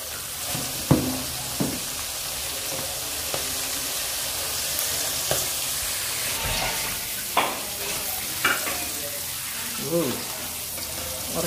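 Onion sambal frying in a pan with garlic, sugar and shrimp paste, a steady sizzle running throughout with occasional clinks and scrapes of stirring and a voice talking briefly.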